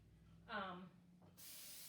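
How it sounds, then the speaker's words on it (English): Cooking spray hisses steadily onto a baking dish in a home kitchen, a sustained close spray in the last half-second or so, after a brief tonal clatter earlier. "I am going to spray my dish"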